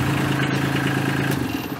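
A tractor engine runs steadily at idle nearby, a continuous low rumble with a faint rhythmic clatter and no talking.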